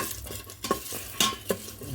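Curry chicken tenders are mixed in a pot, giving a few soft scrapes and knocks over a low frying hiss.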